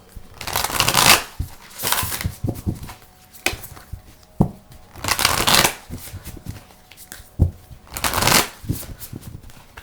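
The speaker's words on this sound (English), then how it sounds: "I'm also going to shuffle these." A deck of playing cards gets shuffled in several bursts of riffling and flicking, each a second or so long with taps and handling between, close and without speech.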